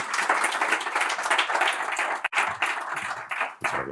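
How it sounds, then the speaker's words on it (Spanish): Audience applauding at an award ceremony in a hall, dense steady clapping that briefly dips and then resumes. "les ruego un fuerte aplauso"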